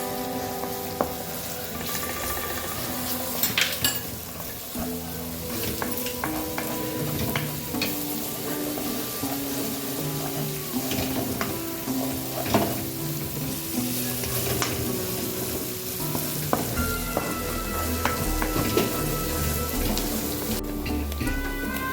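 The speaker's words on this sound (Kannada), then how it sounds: "ಈಗ ನೆಕ್ಸ್ಟು ಶುಂಠಿ ಬೆಳ್ಳುಳ್ಳಿ ಪೇಸ್ಟ್ ಹಾಕ್ತೀನಿ." Ginger garlic paste frying with onions in a pan for Gobi Manchurian, a continuous sizzle with repeated scraping stirs and clinks of a spoon throughout, plus a brief burst of running water near the end.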